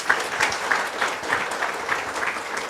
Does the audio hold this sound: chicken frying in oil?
no